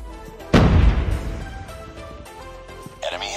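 A frag grenade explodes in an online first-person shooter match, a single loud, close boom with a rumbling tail that fades over about two seconds, under background music and game sounds.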